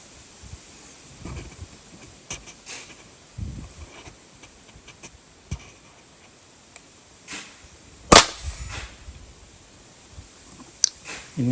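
An FX Impact air rifle fires at a 150-yard target outdoors, one sharp, loud crack standing out midway among scattered quieter clicks and handling noises.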